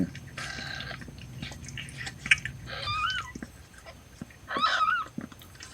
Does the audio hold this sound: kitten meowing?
yes